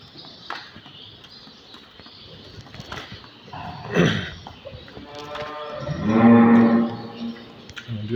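Cattle and calves on a farm, with one near, drawn-out moo rising partway through and a louder, fuller bellow later, over low barn shuffling and background noise.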